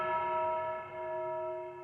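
A church bell rings with a sustained metallic tone that hangs and hums steadily, as in the intro of a song played back from a recording, with no voices over it.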